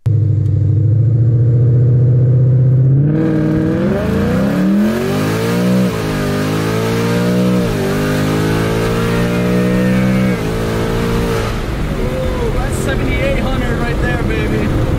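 A built-up Ford Mustang engine idles with a deep rumble before revving hard through several rising and falling sweeps. It is loud and close, with a refined, smooth tone.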